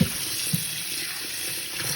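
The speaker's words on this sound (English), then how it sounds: "I'm just gonna rinse this with some water" Tap water pours steadily into a strainer as food is rinsed at a kitchen sink, a continuous close splashing hiss with a couple of small knocks.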